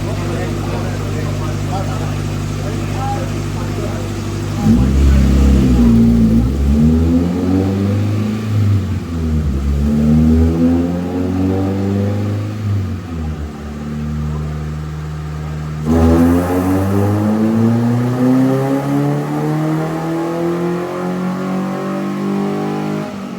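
A stock Nissan 240SX with a KA engine revs on a dyno, with loud, rising engine pulls climbing in pitch, a pause, then another long pull, with occasional voices.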